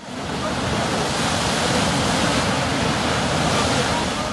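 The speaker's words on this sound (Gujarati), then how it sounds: "પેટાળમાંથી પાણીનો જબ્બર ફુવારો" A loud, steady rush of water gushing from a newly drilled borewell in farm fields, dense and continuous, roaring without pause from start to finish.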